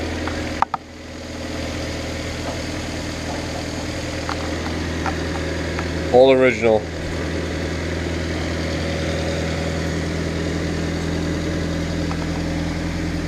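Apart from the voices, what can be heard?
1990 Honda Civic hatchback engine idling with rusted muffler rumble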